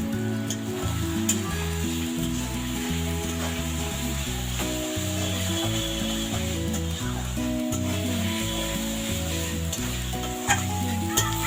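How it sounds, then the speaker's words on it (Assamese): Potatoes fry in a pan over a wood fire with a steady, close sizzle, and occasional stirring adds soft scrapes. No one speaks over the continuous crackle. "এয়া আলু ফ্ৰাই কৰি থৈছে"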